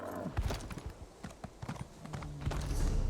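A goat mount in Skyrim trots along, its hooves clopping in a quick, uneven rhythm of distinct thuds against a faint background of game ambience.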